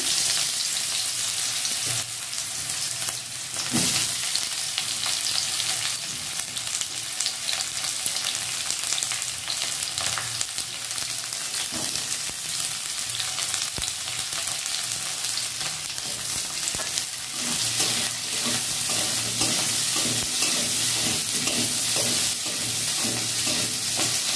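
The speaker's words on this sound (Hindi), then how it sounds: "तेल रे पियाज पकेदेबो" Onions sizzle loudly in hot oil for the whole stretch, with steady scraping and stirring in the pan.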